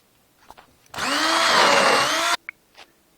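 Blender mixing bananas and milk: one loud steady motor whir lasting about a second and a half, starting and stopping abruptly amid faint kitchen clicks.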